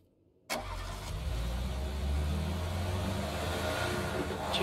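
A video game car engine in a garage cranks into life after a moment of quiet, then settles into a steady low idle with a slight rise near the end, loud and close, no talking.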